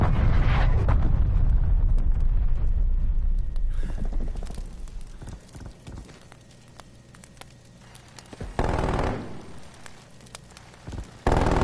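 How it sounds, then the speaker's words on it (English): Heavy artillery explosions in an online multiplayer shooter video game, a long rumbling blast with crackling debris fading out, then further sharp impacts and rumbles later, loud and close. "Artillery inbound."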